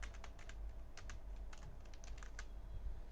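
Keys clatter on a computer keyboard in irregular bursts of quick taps while Python code is entered, close and fairly soft over a low steady hum, with no talking.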